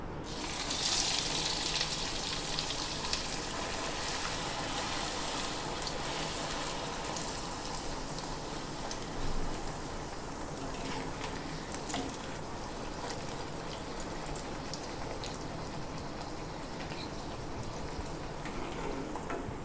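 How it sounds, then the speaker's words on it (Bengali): Luchi fry in hot oil in a kadai with a constant rain-like bubbling crackle, loudest at the start and staying steady and close for the whole stretch, with no voices. "এখন ভেজে নেব লুচিগুলো"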